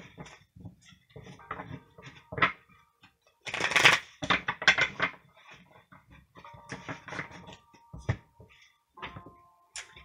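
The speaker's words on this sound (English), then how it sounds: "we will give it a few shuffles just to be sure" A deck of tarot cards is shuffled by hand in a quiet room, giving bursts of riffling and soft slapping card sounds separated by brief pauses, close and fairly faint.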